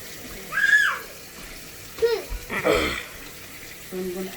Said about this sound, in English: So I'm going to add some more water in here.